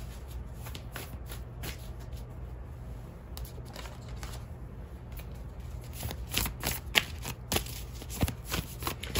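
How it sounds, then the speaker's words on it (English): Tarot cards are shuffled close up in a quiet room: soft riffling and papery flicks, growing into sharper, quicker card snaps toward the end as one is pulled. "Let's pull one more card here for overall advice for you"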